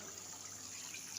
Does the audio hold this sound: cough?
no